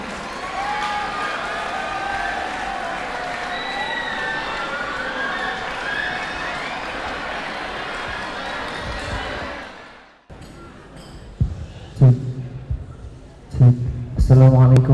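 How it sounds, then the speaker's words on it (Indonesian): Loud, sustained applause from the audience at a school Maulid Nabi celebration, greeting a Hadroh team. It runs for about ten seconds, then cuts off, and a voice and percussive sounds follow. "Beri tepuk tangan yang meriah untuk tim Hadroh."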